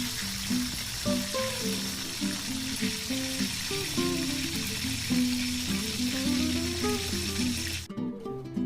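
Thin slices of salted beef fry in hot oil with a continuous close sizzle and crackle, joined by scattered clinks and scrapes, before the sound cuts off abruptly near the end.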